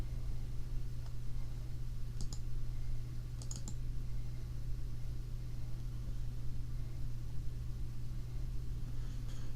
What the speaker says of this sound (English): I'm going to click yes